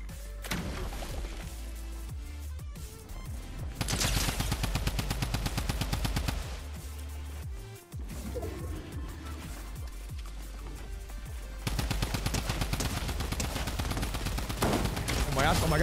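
A mythic drum gun fires in Fortnite in long, loud rapid-fire bursts, with dense repeated shots separated by short gaps.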